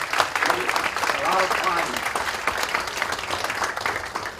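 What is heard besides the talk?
audience applause for students at a symposium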